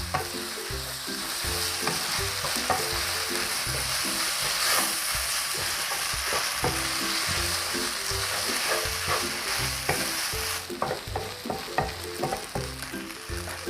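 Glass noodles and tomato stir-fried in a hot pan give a steady, loud sizzle, with rhythmic scraping and tossing of the spatula throughout and no voices.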